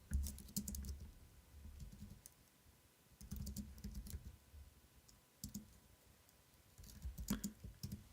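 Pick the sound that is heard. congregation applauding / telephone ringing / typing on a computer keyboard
typing on a computer keyboard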